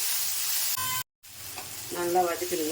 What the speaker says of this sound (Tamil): இந்த தக்காளி வெங்காயத்துக்கு கொஞ்சோண்டு சால்ட்டு நல்லா வதக்கிடுங்க.